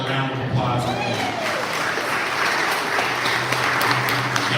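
A church congregation applauds, a full steady wash of clapping with a voice briefly audible at the start.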